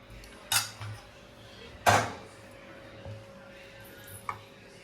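A spoon scraping and clinking against a bowl while mutton and cucumber curry is served: a few sharp metallic clanks spaced out over a quiet background.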